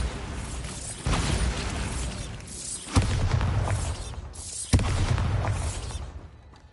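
Bombarda spell blasts in the Hogwarts Legacy video game: a few loud, broadband booming bursts, near and forceful, at roughly two-second intervals amid busy game sound, with no talking.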